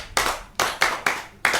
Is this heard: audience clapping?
yes